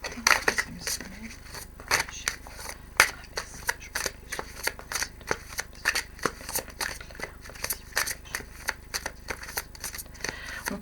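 Playing cards being shuffled for a horoscope card reading, a brisk run of repeated riffling and snapping bursts, close and fairly loud, with no talking.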